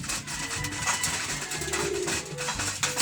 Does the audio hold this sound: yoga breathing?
no